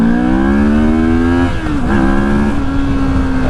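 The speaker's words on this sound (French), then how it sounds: "c'est un moteur qui est quand même relativement joueur" A 2024 Moto Morini Seiemmezzo SCR engine pulls hard and rises steadily in pitch. A quick shift dips the note partway through, then it climbs again and holds strong and close, with no talk over it.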